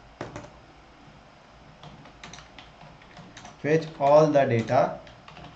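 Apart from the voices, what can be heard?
typing an SQL query on a computer keyboard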